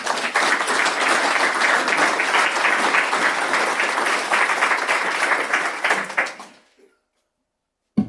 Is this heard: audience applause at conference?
yes